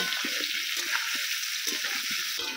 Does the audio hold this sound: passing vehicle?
no